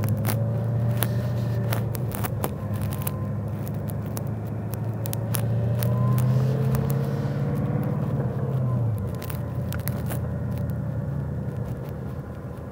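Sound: 2018 Shelby Super Snake supercharged engine accelerating through gears

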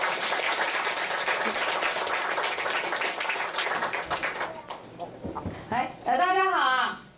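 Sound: audience applause welcoming the speaker

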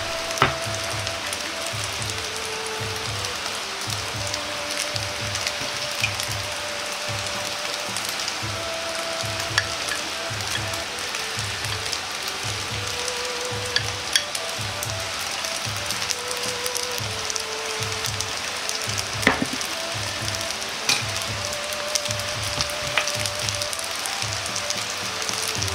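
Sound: pork belly searing in a frying pan

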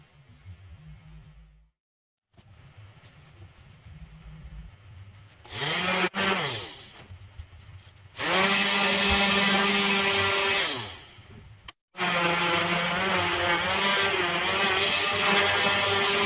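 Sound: power sander sanding wood

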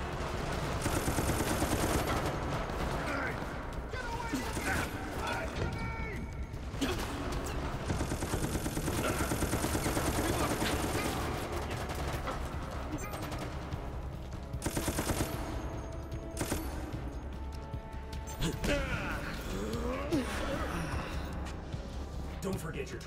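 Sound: gunfire in Resident Evil Operation Raccoon City video game

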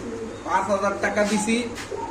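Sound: Lahori pigeons cooing

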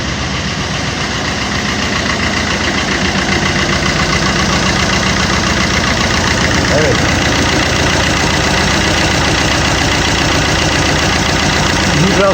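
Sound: silenced Multijet diesel car engine idling

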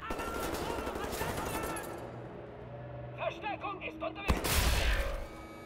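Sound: gunfire from new gun in Wolfenstein: The New Order video game

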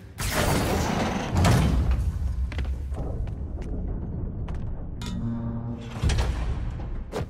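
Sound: trap door opening in Spider-Man PS4 video game

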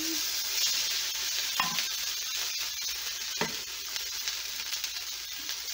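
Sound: rice sizzling and sauteing in seasoned oil in a pan

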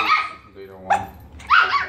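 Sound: dog barking

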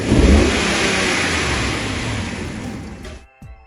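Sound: RAM 1500 5.7 Hemi engine revved at full throttle

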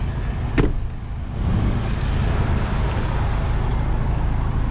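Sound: Kia Sorento MX5 engine idling

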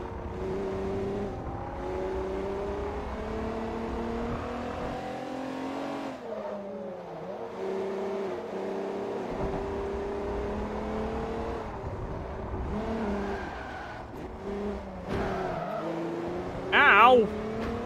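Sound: race cars revving in video game Forza Motorsport 3

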